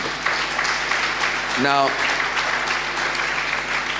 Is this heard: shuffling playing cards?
no